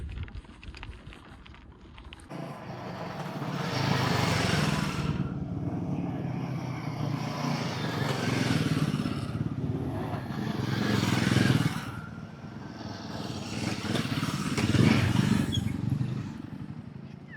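Motorcycles swell and fade in several waves as they pass close by on a climbing road in Ladakh, a rough droning roar rising and falling over a quiet outdoor background.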